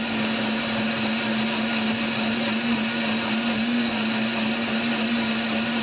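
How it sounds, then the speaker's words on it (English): A blender whirs steadily at full speed as it grinds lemon into a cocktail. The motor whine is loud, close and constant, with no voices over it. "And then I blend it up. I like to give it a little chance to blend up."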